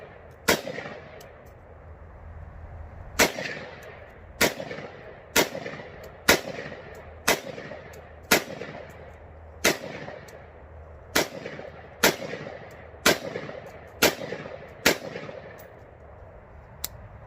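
Single gunshots from an AR rifle with a Stoner upper, fired in a slow, uneven series of about fifteen sharp, loud reports spaced roughly one to two seconds apart, each with a short echoing tail outdoors.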